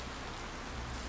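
Rain in the video game Wasteland 2 makes a faint, even, continuous hiss of falling water with no voices.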